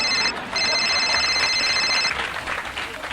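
A telephone rings with a repeated electronic trill, one long burst after a short break, fairly close over a noisy room, with no talk during the ring.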